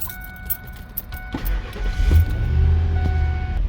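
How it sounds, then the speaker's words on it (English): A 2000 Ford F-150 pickup truck is started: a brief click and crank, then the engine catches and settles into a steady low idle rumble, heard up close with no voices. "So let's go ahead and start the truck."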